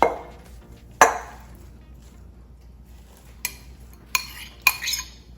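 Spinach leaves dropped into a pressure cooker for mustard-greens saag, giving a sharp clink at first and then a few short rustling, metallic knocks spaced apart, all close and fairly quiet.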